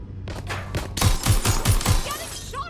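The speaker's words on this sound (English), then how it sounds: "Getting shot at here." Rapid gunfire rattles in the video game Watch Dogs Legion, a close burst of about five sharp shots after a few quieter distant pops, set over a low game drone.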